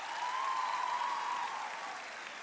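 Studio audience at a Turkish comedy talk show applauds in a steady, even wash of clapping, fairly distant and moderately quiet, tapering slightly toward the end.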